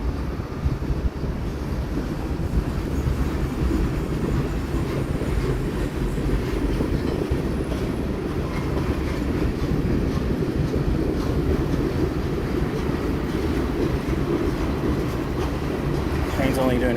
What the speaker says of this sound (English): Train's only doing about 10 miles an hour or so, so it's not really going that fast.